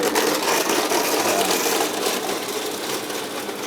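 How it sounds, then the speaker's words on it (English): A kitchen blender loudly whirs as it mixes a protein shake with ice, a steady close grinding roar that runs throughout without a break. "this could get noisy, but I blend it very,"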